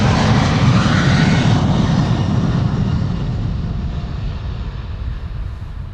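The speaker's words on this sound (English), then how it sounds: "7879 Dreamliner KLM flight 677 is also coming this way." A KLM Boeing 787-9 Dreamliner airliner departing Amsterdam Schiphol Airport roars past, a loud broadband jet engine rumble that slowly fades as the plane moves away, with no voices.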